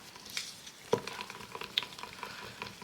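A small stick stirring resin in a cup, producing soft scraping and a few sharp ticks and taps against the container over a quiet background, close up and brief.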